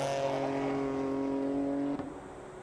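GT race cars at Suzuka during a qualifying session, with a loud sustained engine tone that holds high and then drops away abruptly near the end as the car passes.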